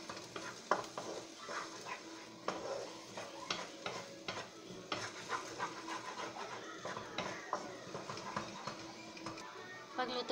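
An egg frying in a pan with onion gives a low, steady sizzle broken by repeated clattering stirs and scrapes of a utensil, close and fairly quiet, with a voice talking intermittently underneath.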